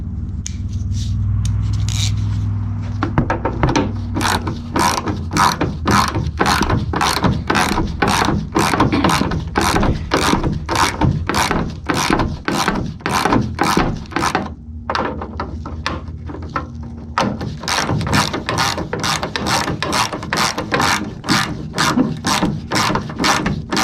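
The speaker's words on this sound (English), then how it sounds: "Now I'm just using the socket and running it in with my fingers until it starts getting a little bit tighter." Rapid, steady clicking of a socket ratchet driving tailgate hinge bolts on a 2001 Chevy Silverado 2500HD, close and crisp, in long even runs with a short pause and a change of direction midway.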